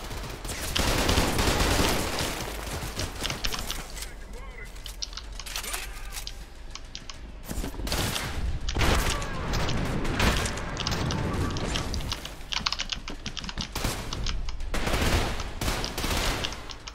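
Rapid bursts of assault rifle fire in the shooter game Trepang2, loud and dense, repeating in clusters with booms mixed in across the whole stretch.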